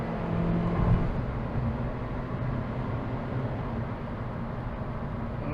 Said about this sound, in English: let's accelerate up to 55 with the AC